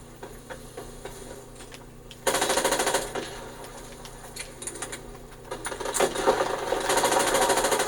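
Video game gunfire during a firefight with an enemy: rapid automatic bursts crackle in two loud stretches over a low background hum, with no speech.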